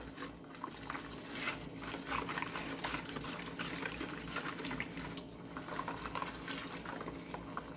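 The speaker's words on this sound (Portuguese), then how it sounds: "Vou mexer até dissolver esse sabão em pó." Powdered laundry soap being stirred into a litre of boiling water, a steady close wash of liquid sloshing and pouring-like swirling that continues without a break and with no talk.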